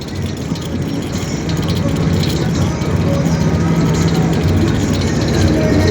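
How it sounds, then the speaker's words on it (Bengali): A boat's engine runs during a ride on the Yamuna near Gokul village, making a constant low, chugging rumble that swells slightly over time, with voices faintly in the background. "দেখো আমরা বোটে সফর করছি, বোটে করে যাচ্ছি"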